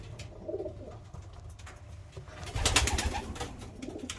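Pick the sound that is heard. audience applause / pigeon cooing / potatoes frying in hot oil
pigeon cooing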